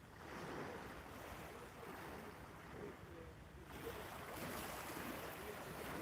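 Sea waves wash against Maryport pier on the Irish Sea at sunset, a steady rolling surf hiss with wind buffeting the microphone throughout.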